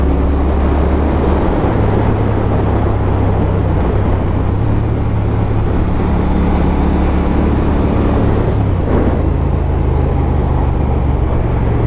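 A Triumph Thruxton R motorcycle engine accelerates in a steady, loud, continuous drone. Wind noise is heavy and there is a slight shift in pitch near the end.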